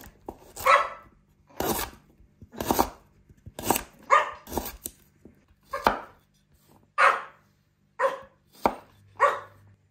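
Fresh ginger being chopped with a knife on a cutting board in a home kitchen, a steady series of about a dozen sharp, close blade strikes in uneven bursts with short pauses, heard alone without talk.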